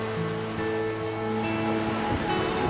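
Sea surf washes in a continuous broadband roar, close and steady, with a faint low hum underneath and no talking.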